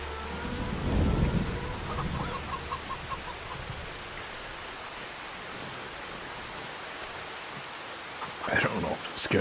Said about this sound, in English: I do like the sound of rain.